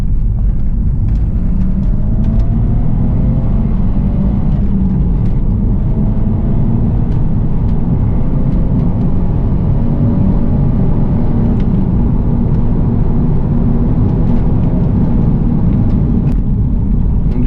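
A tuned Saab wagon making about 400 ft-lb of torque accelerates hard from a second-gear roll at 30 mph. Heard from inside, it gives a loud, sustained low engine rumble with a rising tone, and no one speaks.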